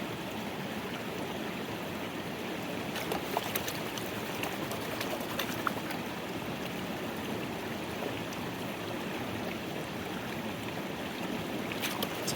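Continuous water sloshing and swirling while gold paydirt is panned at an inside river bend, a steady close wash of water with occasional small splashes and gravel clinks.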